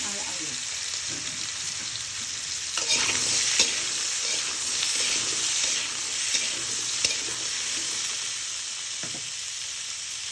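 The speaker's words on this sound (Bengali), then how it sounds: "জিরেটা ভাজা হয়ে গেছে, এবার কেটে ধুয়ে রাখা সবজি দিয়ে দিব" Cut vegetable stems and potato fry in hot oil with cumin, giving a steady close sizzle with stirring scrapes throughout, and no voice heard.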